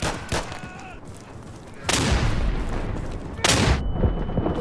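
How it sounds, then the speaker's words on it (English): Gunfire in the World War II shooter Day of Infamy, loud sustained bursts of heavy automatic fire in two long blasts with quieter crackling and distant shots between them. "That's walking out in front of a machine gun."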